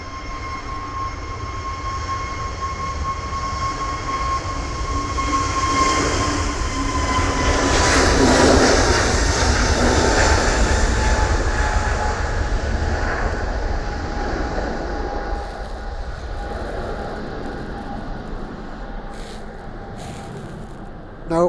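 An aircraft departs Manchester Airport, heard from the south side as a long roaring rumble that builds to a loud peak around the middle and then slowly fades into the distance, with no talk.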